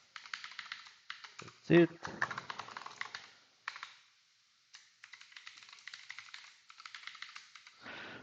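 A password is typed on a computer keyboard in quick, close clusters of key taps with brief pauses between bursts, and a short spoken remark cuts in near the start.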